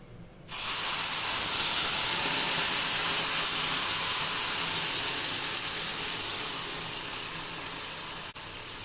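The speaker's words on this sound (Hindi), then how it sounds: "चाशनी ऐड कर लेते हैं" Sugar syrup poured onto hot roasted vermicelli in a pan gives a sudden loud, steady hiss of steam that starts abruptly and fades only slightly over several seconds.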